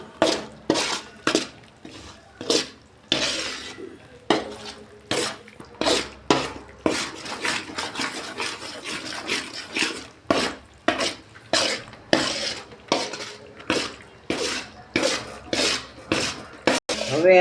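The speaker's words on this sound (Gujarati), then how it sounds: "ઘીમાં આપણે જો આ રીતે લોટ નાખી દીધો છે શેકવા માટે" Urad flour roasts in ghee for adadiya pak while a spatula scrapes the pan in quick repeated strokes, a steady rhythmic rasping that continues for a long stretch without talk.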